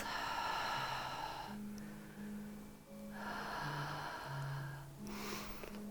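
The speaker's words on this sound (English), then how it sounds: "just breathe in and out. Even breaths." Slow, even breaths in and out during a sunrise yoga session, each close and soft, with several audible inhales and exhales in sequence and no talk.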